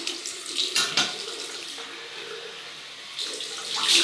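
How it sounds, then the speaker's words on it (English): A cold-water tap runs into a shaving bowl being rinsed, a steady close splashing stream with brief surges and a louder gush toward the end. "Cold water rinse."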